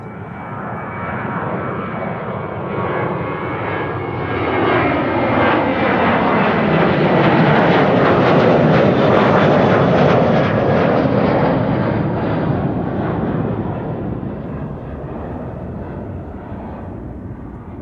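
KLM jet taking off at Amsterdam Schiphol, a broad engine roar that swells as the aircraft nears, peaks loudly around the middle with a sweeping whine, then slowly fades into the distance, with no voices over it.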